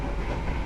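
Brawijaya executive-class passenger train running at about 100 km/h between Kertosono and Madiun, a steady loud rumble of wheels on rails with constant hiss and rattle heard from inside the carriage.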